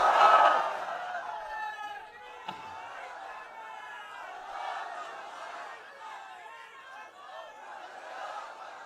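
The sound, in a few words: crowd shouting Allahu Akbar in response to takbir call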